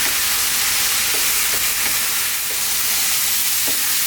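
Spice powders for an Indian beef eggplant curry fry on high heat while being stirred constantly, giving a dense, even sizzle with soft scraping strokes of the spoon in the pan, close and continuous with no voices.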